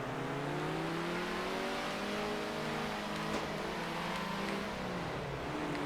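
A race car engine in the top-down racing game Circuit Superstars, a steady whining drone that rises and falls with throttle, fairly quiet and constant, with no voices.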